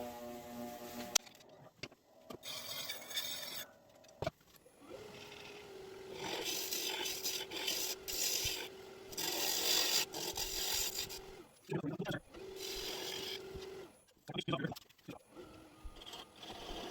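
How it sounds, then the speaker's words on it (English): A woodturning gouge is touched up on a sharpening grinder, giving several bursts of steady grinding and rasping, each a few seconds long with short pauses between them. The sound is fairly close and moderately loud. "I'm going to touch up this gouge real quick so that doesn't happen again."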